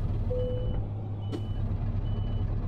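Reversing beeps from a Scania S500 truck in a driving video game on an extreme roads map, a few clear steady tones sounding over a constant low engine rumble, with no talking.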